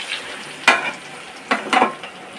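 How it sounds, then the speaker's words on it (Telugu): Stuffed brinjal curry cooking on a low flame, giving a soft sizzle with a few brief scraping bursts as the pan is stirred, fairly close, no voices. "సో ఈ వంకాయలన్నిటిని మనం సిమ్లో పెట్టి మగ్గించేసుకుందామండి"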